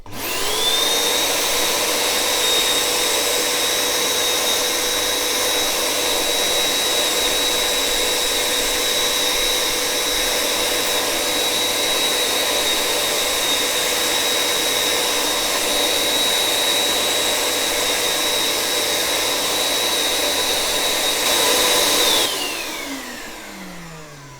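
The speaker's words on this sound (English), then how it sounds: "So here we go, vacuum on." A vacuum cleaner cleaning a vinyl record runs loudly and steadily with a high whine for over twenty seconds, then switches off and winds down at the end.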